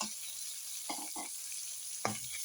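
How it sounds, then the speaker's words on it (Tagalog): Garlic and onion sauté in a pan, a quiet continuous sizzle with a few short stirring scrapes, close and without talk. "gisa po sa bawang at sibuyas"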